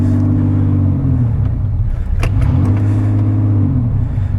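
A 1988 Pontiac Fiero GT with a 5-speed rumbles close by, its engine revving up and easing back in two swelling pushes, with a sharp knock in the middle and no talk.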